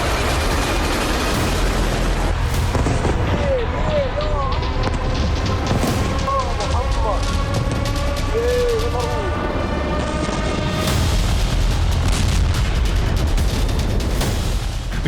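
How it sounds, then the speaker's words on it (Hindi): Repeated heavy booms and blasts from Iranian missile strikes on Israeli cities rumble over a dense, continuous noisy background, with scattered sharp cracks and distant wailing tones throughout. "इजराइल के शहर शहर में धमाके हो रहे हैं।"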